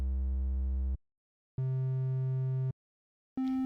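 A triangle wave from a Phase Plant analog synth oscillator plays as steady electronic tones: two held notes separated by silence, then a higher note starting at the end, clean and moderately loud.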